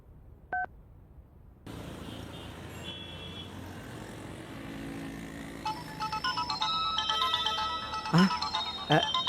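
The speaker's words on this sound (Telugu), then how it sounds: "రాజా దగ్గర నుంచేనమ్మా ఫోను." A phone ringtone starts partway through, a loud repeating electronic melody over a constant traffic hum, preceded by a brief beep early on.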